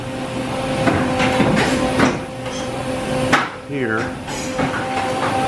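CNC machine changing tools to its spindle probe in a workshop, with mechanical clunks, thuds and a whirring motor over a steady machine hum, while a person speaks briefly.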